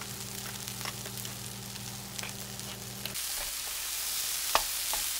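Seasoning of red pepper flakes, salt and pepper cooks in a pan with a steady broadband sizzle, with a low hum under the first three seconds and a single sharp clink near the end.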